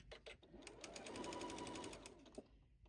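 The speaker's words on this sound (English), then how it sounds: "I'm going to sew right through that." Sewing machine stitching straight through quilt binding, a steady close-up mechanical whir with rapid needle rhythm running for a few seconds before stopping.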